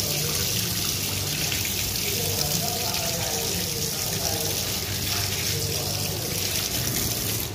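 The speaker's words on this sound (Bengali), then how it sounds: "দেখেন এটা হচ্ছে বেসিন কল, মানে ধোয়া পাকনি করা যায়।" Water runs steadily from a basin tap, a continuous close splashing stream with faint voices in the background.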